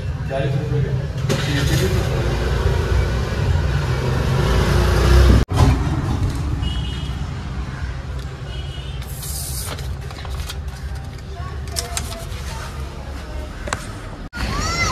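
A car engine starts and runs close by, a steady mid-pitched rumble with occasional clunks and shifts, as people talk over it.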